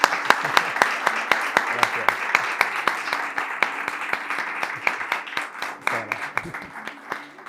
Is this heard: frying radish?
no